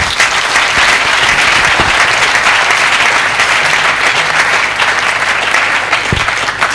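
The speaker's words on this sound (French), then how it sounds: "nous pouvons applaudir le Seigneur" A church congregation at a revival service claps in a loud, dense, continuous burst of applause, close and unbroken from start to finish.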